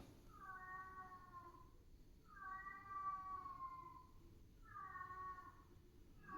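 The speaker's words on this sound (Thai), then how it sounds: "พอดีเสียงแมวนะครับ" A cat meows three times, drawn-out and plaintive, with pauses between, fairly quiet against a hushed room.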